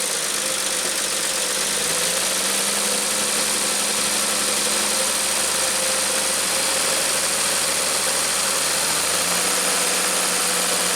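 A 1967 Triumph GT6 engine runs steadily and loudly, held at raised revs to make the generator self-excite, with a constant mechanical drone and hum lasting throughout.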